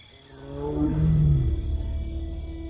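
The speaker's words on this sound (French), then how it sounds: "Ces rugissements indiquent sa présence aux femelles qui se trouvent sur son territoire" Wild Bengal tiger roaring once at close range, a deep, rumbling call that swells over about a second and then fades, with no voices.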